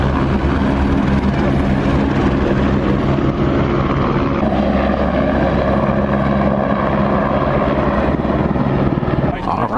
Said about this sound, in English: We got a helicopter taking off over there.